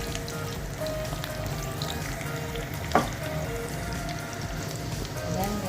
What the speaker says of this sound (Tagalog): haluin lang natin siya hanggang medyo golden brown siya.